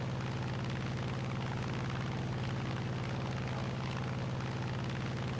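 A P-47 Thunderbolt fighter in War Thunder gives a steady, loud, close engine drone with a deep pulsing hum that holds level throughout, with no talking.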